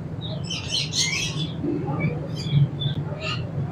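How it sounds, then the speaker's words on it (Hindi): A breeding pair of green ringneck parakeets in an aviary gives sharp, shrill chirps and squawks in several short bursts, close by, over a low steady hum with someone speaking faintly in the background. "ये माशाल्लाह ग्रीन रिंगनेक के पेयर है हमारे पास"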